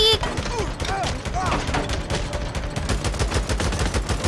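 Rapid bursts of automatic gunfire from the video game Days Gone, played on hard mode, crackle loud and close in a dense, continuous volley.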